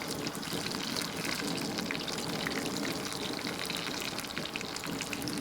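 Parore fish fillets sizzle in a hot frying pan, browning on one side, giving a steady, even hiss of frying that holds constant throughout without pause.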